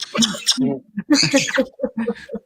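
A pet bird chatters in quick, voice-like bursts that mimic the words "bye bye," close and fairly loud, in a short run of choppy syllables.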